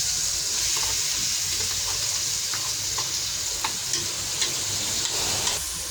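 Tomato and ground meat are sautéed and stirred in a pan for a Filipino mung bean dish, with a steady sizzle throughout and faint scraping stirs ticking now and then, close and even.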